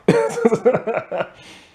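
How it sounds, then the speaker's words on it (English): A short burst of throaty, voiced rasping and hacking, several quick rough pulses close to the listener, fading out at the end. "I had to clear my throat"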